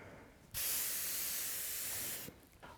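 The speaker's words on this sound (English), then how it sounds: "I choose to spray the pots" Compressed-air spray gun misting a black copper oxide glaze with borax frit and bentonite onto pottery for copper oxide fuming, a loud steady hiss lasting about two seconds, starting and stopping abruptly over a quiet room.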